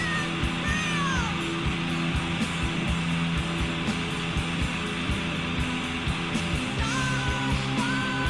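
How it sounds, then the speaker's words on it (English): A cat meows a few times, drawn-out rising and falling cries heard over a constant loud whooshing background hum indoors. "Oh, there's the cats."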